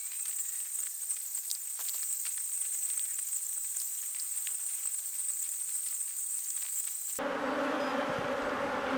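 Honeybees from a checkerboard colony buzz steadily in a hive box, a dense continuous hum heard close up, with a brief louder shift near the end.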